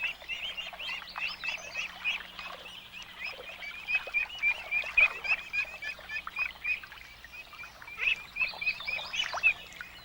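Ducks and few-day-old ducklings on a pond give repeated high, thin peeping calls in clustered bursts, with occasional lower honk-like quacks, over a quiet background hum and no talking.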